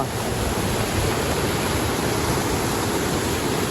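At the Galiveedu waterfall, a loud, unbroken rush of falling water churns steadily nearby, broad and hissing, with nothing else cutting through.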